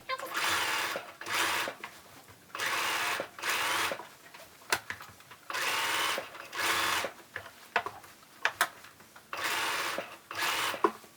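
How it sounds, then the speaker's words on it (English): Sewing machine stitching the back of a tropical shirt with black thread: several loud, close bursts of fast whirring stitching, stopping and restarting, with small clicks and handling noises in the gaps. "I'm going to sew the back on with the black thread"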